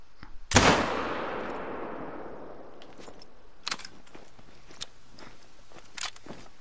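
A single loud hunting-rifle shot cracks out in The Hunter: Call of the Wild, in the Vurhonga reserve, then rings away in a long fading echo. A few faint clicks and soft steps follow, with no talking.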